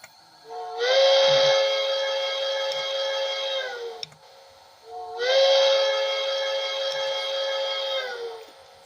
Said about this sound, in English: 2 is the long whistle.